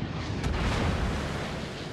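Enemy cruiser shells strike a warship in the naval combat game World of Warships, producing a dense, roaring explosive rumble that swells and lingers, loud and close, with no talk.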